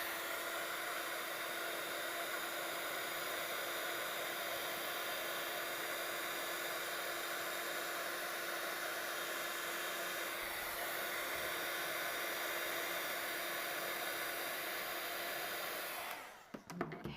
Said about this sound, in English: we're going to heat this up. So we'll just use our heat tool again.